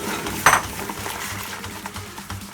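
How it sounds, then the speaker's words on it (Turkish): A spoon briskly stirring cold water into mushroom soup in a pot, a continuous swishing and scraping with a single clink of metal near the start, close and steady. "Hızlı bir şekilde karıştırıyoruz."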